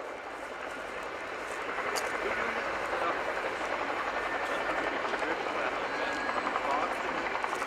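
A Boeing Chinook HC6A tandem-rotor helicopter manoeuvres at an air display, a loud, broad roaring rotor and engine noise growing stronger partway through, with a commentator speaking over it.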